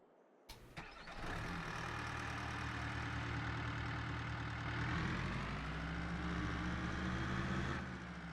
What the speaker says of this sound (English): Yeah, I think this truck is just obscenely loud